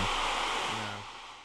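Ocean wave sounds playing from a phone speaker, a steady broadband wash of surf that swells at the start and slowly fades, heard alone without talk.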